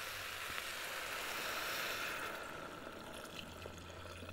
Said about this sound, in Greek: ερχόμαστε και σβήνουμε με μισό λίτρο νερό